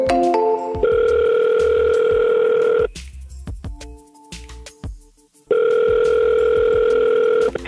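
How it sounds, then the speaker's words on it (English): Two long, loud ringback tones sound on a phone line while a cold call to a prospect for a social media marketing agency waits to be answered, separated by a quieter gap with faint background noise. "the anticipation as you wait for them to answer the phone"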